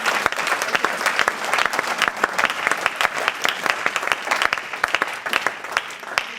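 A church congregation claps loudly and steadily in praise of the Lord during a French-language sermon, a dense, continuous burst of many hands with no voices standing out.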